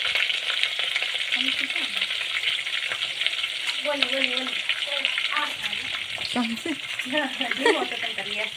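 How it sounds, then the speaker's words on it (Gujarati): Curry leaves and chillies tempering in hot oil give a steady, fairly loud sizzle and crackle throughout, with voices talking over the frying. "મીઠા લીમડા નાખીને વઘાર કર્યો"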